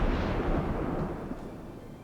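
Naval gunfire in World of Warships around a US Navy Wickes-class destroyer, a heavy booming blast with rolling low rumble that slowly decays over two seconds.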